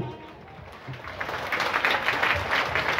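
Audience clapping after a theatre play performance, a crowd's applause swelling from faint to a fuller, steady patter over a few seconds, heard at moderate distance.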